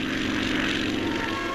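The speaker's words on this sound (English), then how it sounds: "They'll take ski planes with them, and they're now busy practicing takeoff and landing." Ski plane propeller engine droning steadily and loudly during takeoff practice on the Tasman Glacier, a continuous broadband roar with no speech.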